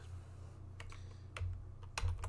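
Computer keyboard keys are tapped in a quiet room during graphic design work, a few sparse clicks followed by a quicker cluster of presses near the end over a low steady hum.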